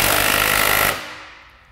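A power tool drives a nylon lock nut onto an Acura TL rear strut, a loud, steady hammering rattle lasting under a second before cutting off abruptly, leaving a fading tail.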